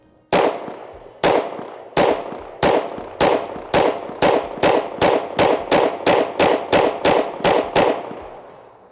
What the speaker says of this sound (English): It's pretty hard to get over how well this gun shoots.